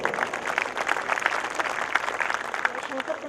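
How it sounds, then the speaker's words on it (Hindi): An audience keeps clapping at a poetry gathering, a steady wash of applause throughout while someone speaks over it. "तालियां बजती रहनी चाहिए"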